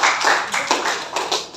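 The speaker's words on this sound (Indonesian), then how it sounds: "tepuk tangan" A classroom group claps in a short burst of a few quick, uneven, close hand claps, loud and dry with no talking.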